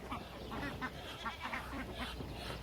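A drake duck in a garden with geese nearby quacks in short, repeated bursts, about five or six calls at a steady, moderately close level over low outdoor background noise.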